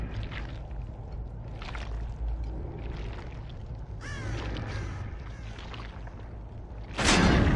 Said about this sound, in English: I often wonder what the purpose of the crows is